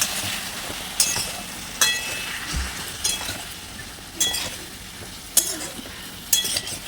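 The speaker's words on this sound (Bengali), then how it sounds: "দিয়ে এবার সবজিগুলোকে দিয়ে ভালোভাবে ভাজা ভাজা করি।" Vegetables and prawns being stir-fried in a pan with a splash of water, giving a soft steady sizzle broken by sharp clinks of a utensil scraping and tapping the pan every second or so.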